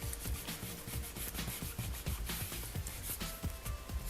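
Gold transfer foil strips being burnished over tape, giving a quiet, rapid scratchy rubbing that repeats in short strokes for several seconds, with no talking.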